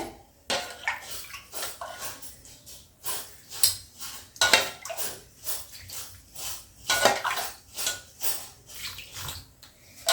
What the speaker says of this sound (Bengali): এইভাবে অল্প করে দুধ অ্যাড করে করে এটাকে ভালো করে মিক্সচারটা বানিয়ে নেব